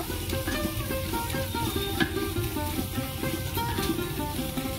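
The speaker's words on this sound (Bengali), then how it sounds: "জিরে গুঁড়ো, ভালো করে একসাথে কষিয়ে নেব" Mutton sizzles steadily in a hot pan with turmeric and cumin powder, a dense, continuous frying hiss with small pops and occasional stirring scrapes, close and fairly quiet.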